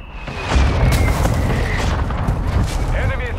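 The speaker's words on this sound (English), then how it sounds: "They literally sent out an airstrike." Airstrike explosions in Call of Duty: Modern Warfare II, a dense rolling barrage of deep booms and bursts that swells after a brief lull and rumbles on loudly throughout.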